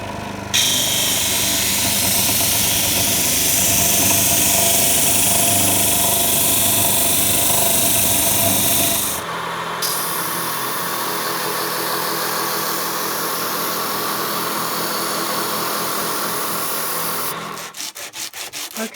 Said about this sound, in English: I don't want my sleeves getting caught in the sander and pulling my hand in or anything like that